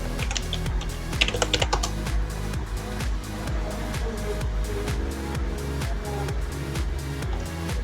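Steady typing on a keyboard while a Kali Linux ping command is entered, rapid clicking keystrokes that are close and continuous, accompanied by a faint background hum.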